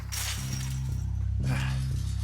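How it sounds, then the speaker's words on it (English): A gate in the game Firewatch is smashed open in two heavy blows, each a loud crashing impact with a bright splintering burst, close and unaccompanied by speech. "Smashed open the gate."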